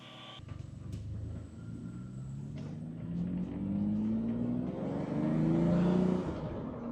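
A 1998 Lamborghini Diablo driving around a block, its engine rumbling and climbing in pitch through a long acceleration, fairly faint and heard from inside or nearby, with no talking.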